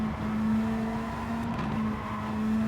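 A Super Formula single-seater race car engine in Gran Turismo 7, a steady loud high-pitched engine drone held at high revs with a slight dip and recovery, heard alone.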